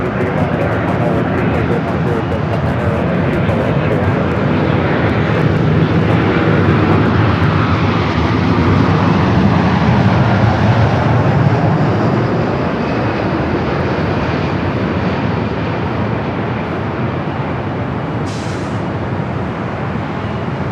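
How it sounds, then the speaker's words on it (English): A jet airliner arriving at LAX from Amsterdam roars loudly and continuously overhead, a sustained broad engine rumble dominating the whole stretch, with a voice talking faintly beneath it. "Again, that's Flight 601 coming in from Amsterdam"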